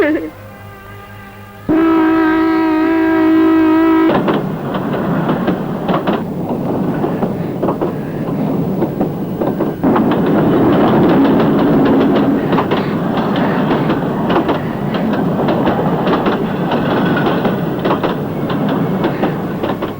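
A train horn blares briefly, then a long rumbling rattle of train cars rolling along the rails, steady and loud throughout.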